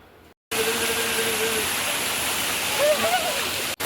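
Waterfall at Olichipara, a loud continuous rushing roar close by that cuts in after a short quiet start, with faint whistling tones riding over the steady wash and a brief dropout near the end.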